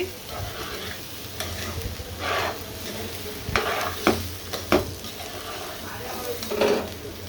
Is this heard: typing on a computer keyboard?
no